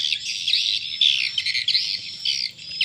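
A swiftlet lure call recording of the ST Rajawali type, mixed with roosting sounds, plays as dense, continuous high chirping and twittering in rapid bursts, loud and steady without pause.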